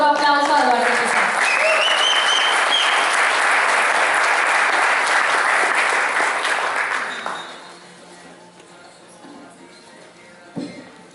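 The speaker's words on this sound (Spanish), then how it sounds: "por favor recibamos con un muy fuerte aplauso" A conference audience welcomes a speaker with loud, sustained applause and some cheering voices over the clapping, which fades after about seven seconds into quieter room sound, with a single bump near the end.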